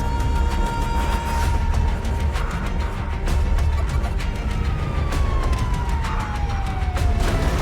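Police sirens wail during a chase in the GTA V video game over a loud engine roar and repeated clattering impacts.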